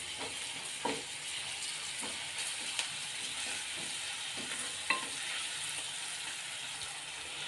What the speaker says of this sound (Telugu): ఈ అల్లం వెల్లుల్లి పేస్టు పసుపు అనేది పచ్చివాసన పోయేలాగా మంచిగా వేయించుకోవాలి